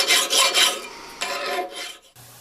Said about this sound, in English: By the time I'm done filing this entire spring, all of the forging scale needs to be gone.